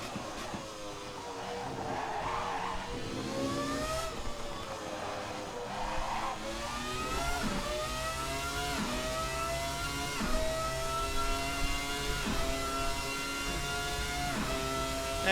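A Ferrari F300 Formula One engine in the racing game Assetto Corsa screams through rising revs and quick upshifts, with a dip, then repeated climbing gears, loud and steady throughout.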